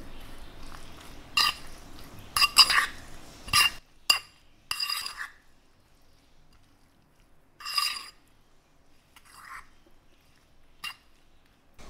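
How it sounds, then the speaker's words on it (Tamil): A spoon clinks against a bowl while cucumber and yogurt sandwich filling is mixed, giving scattered short taps and scrapes with quiet pauses between them. "நல்லா mix பண்ணிக்கலாம்."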